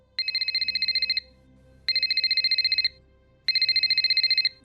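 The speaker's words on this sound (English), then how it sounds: "I typed in the number, and I hit the call button" A telephone rings three times after a call is dialed to a clinic, each electronic ring a rapid trill lasting about a second, separated by even pauses, loud and close.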